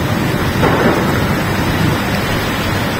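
Steady heavy rain hisses on a surface in Qatar, with a low thunder rumble swelling briefly in the background.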